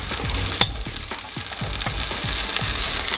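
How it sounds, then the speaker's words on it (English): Apples frying in melted butter in a pan, a loud continuous sizzle with bubbling crackle and a few soft stirring knocks, close up with no talking. "Now that the butter's melted, we're gonna go ahead and put the apples inside the pan."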